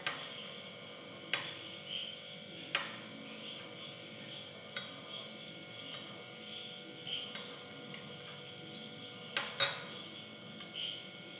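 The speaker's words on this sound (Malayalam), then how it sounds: "ഇനി ഇതെല്ലാം കൂടെ നന്നായിട്ടൊന്ന് മിക്സ് ചെയ്യണം." Eggs, milk and sugar are mixed in a bowl. Quiet, sparse clinks of a utensil against the bowl come every second or so over a faint electrical hum, with no talking.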